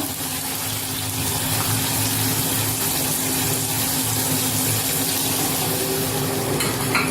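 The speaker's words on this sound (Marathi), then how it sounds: "आपलं जे वाटण बनवलं होतं त्या सगळ्याचं जे पाणी आहे ते घालूया" A steady rush of ground masala water pouring and gushing into a cooking pan of chicken curry, continuous and close, with no voices.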